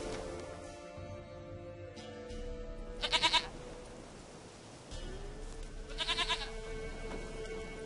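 A goat in The Witcher 3 bleats twice, two short wavering cries a few seconds apart, clear against a quiet, gently rustling outdoor ambience.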